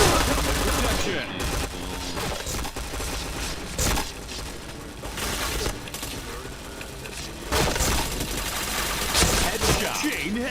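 Sustained bursts of automatic gunfire and shots from a shooting video game, loud and dense over about ten seconds with intermittent sharp impacts, while players talk throughout.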